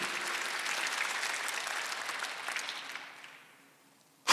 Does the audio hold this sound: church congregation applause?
yes